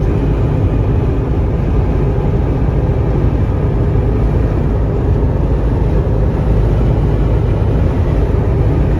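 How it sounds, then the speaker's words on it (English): Loud, steady wind roar and road rumble inside a 1994 Jeep Cherokee Sport XJ cruising at about 70 to 75 mph on a highway, constant and broadband with no talking. "Well, you can probably hear the wind noise."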